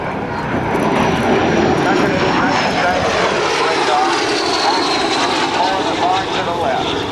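A jet with a 4,900-pound-thrust turbofan engine roars past at the NAS Oceana airshow, a loud, sustained rushing drone with a shifting whine as it crosses overhead, with an announcer talking over it.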